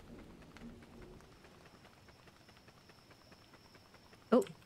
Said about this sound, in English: Oh good, it's raining.